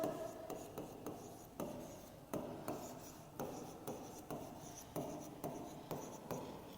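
Handwriting on paper during an English lesson, a steady series of short pen scratches and taps repeating about every half second, close and quiet with no talk.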